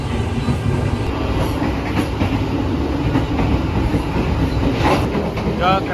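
Probowangi passenger train running along the rails at roughly 60 to 90 km per hour, a steady loud interior rumble with rhythmic wheel clatter and a brief squeal near the end.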